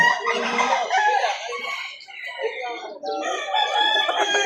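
A rooster crows loudly and close, two drawn-out calls with brief clucking between them.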